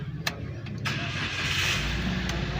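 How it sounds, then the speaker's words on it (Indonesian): Car engine cranking and catching during a brake booster check in a school workshop, a brief starter whir followed by a steady idle that rises and settles, close and fairly loud with no talk. "kemudian nyalakan mobil"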